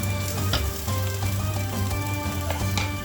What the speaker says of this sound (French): Je vais commencer par venir mettre mon oignon et l'ail dans mon huile d'olive.